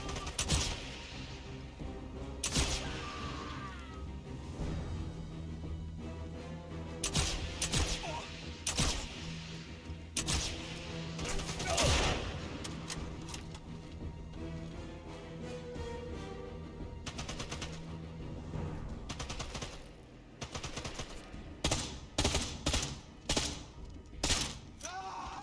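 Gunfire in the game Sniper Elite: Resistance crackles through repeated loud shots and rapid bursts, with denser volleys toward the end over a steady background.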